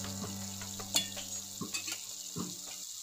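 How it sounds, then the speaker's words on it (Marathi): Spice masala fries in oil for a sprouted moth bean and pea curry with a soft, even crackle. Several spoon knocks and scrapes ring out against the pan, with a brighter clank near the start. "सर्व मसाला आपला तेलामध्ये छान असा तळून झालेला आहे"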